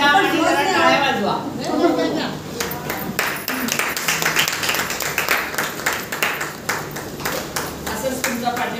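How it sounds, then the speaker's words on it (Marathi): A gathered audience claps together after a voice speaks over a lively, noisy crowd, building into a dense, steady round of applause that continues to the end. "जरा टाळ्या वाजवा"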